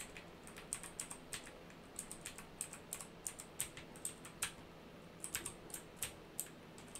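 Keys on a computer keyboard pressed in short irregular bursts while operating a flight simulator, each tap a sharp, close click separated by brief pauses, with no talk over it.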